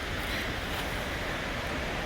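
South Falls waterfall in Silver Falls State Park, Oregon, roars as a dense, continuous rush of falling water, loud and unbroken, heard close from a footbridge.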